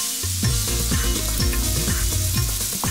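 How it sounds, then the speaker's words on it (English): Garlic and ginger fry over golden onions in a hot pan, a dense continuous sizzle with sharp crackling pops and spatters throughout. "you want to fry off the excess moisture in the ginger and garlic"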